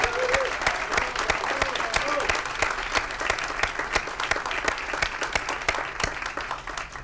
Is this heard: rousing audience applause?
yes